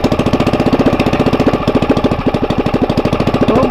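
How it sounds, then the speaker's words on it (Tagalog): A small generator engine with a worn stock carburetor runs rough, loud and close, its rapid uneven firing pulses chugging and stumbling without a break. "Medyo palyado lang yung ating makina at ang karburador nga, stock."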